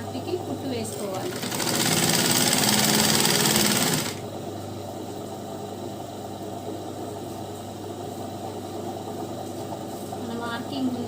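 A sewing machine runs in a fast, loud burst for about two seconds while stitching a chudi pant along a chalk marking, then stops; someone talks in Telugu before, during and after the stitching.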